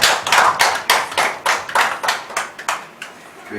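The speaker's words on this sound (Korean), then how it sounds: "우리에게 은혜 주신 하나님께 영광의 박수 올려드리겠습니다" A church congregation at a Sunday service claps in unison, about a dozen strong, evenly spaced rhythmic claps that start loud and taper slightly, with no talk over them.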